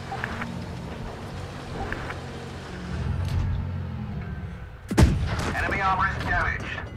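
A tank cannon fires in World of Tanks Blitz, one sharp loud blast cutting through a steady engine rumble, followed by a ringing tail and scattered higher clatter.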